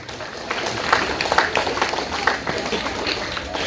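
An audience at a Tamil public talk applauds itself with a dense, steady round of clapping that carries on throughout, with some voices mixed in.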